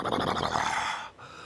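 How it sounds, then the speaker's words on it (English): A man clears his throat with a rough, growly rasp lasting about a second, close to the mic, then stops abruptly, leaving quiet. "I had to clear my throat a little bit"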